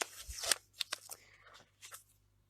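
Scissors cutting paper while a paper fan is made, a few crisp snips close by with short pauses between them, the last cuts quieter.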